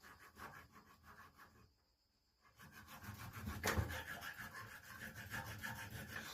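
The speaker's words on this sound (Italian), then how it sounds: "Adesso con una lima quadra" A square hand file rasping against a metal part of an antique drill under restoration, with repeated back-and-forth scraping strokes close to the mic, a brief pause, then steady filing again.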